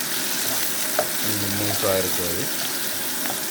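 Food sizzles and fries steadily in a pan, with a stirring scrape partway through while a voice speaks briefly.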